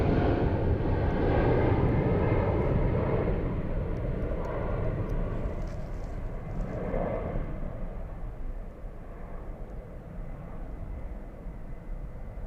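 A fixed-wing airplane passes directly overhead at Zurich airport, a loud, broad engine roar that swells at the start and slowly fades as it moves away.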